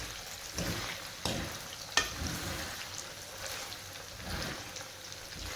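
Cubes of paneer fry in a pan with a steady crackling sizzle, punctuated by a few sharper clinks and scrapes of stirring, close and fairly quiet, with no one speaking.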